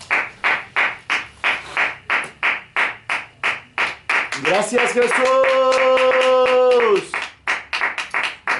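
Church congregation clapping in steady rhythmic unison, loud and close, with someone speaking over it and a sustained sung or shouted phrase in the middle.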